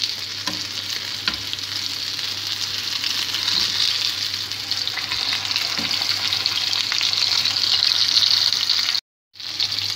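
Fish fillets frying in a pan of hot oil at home, a steady, dense sizzle that holds for nearly ten seconds, with a brief sudden dropout near the end.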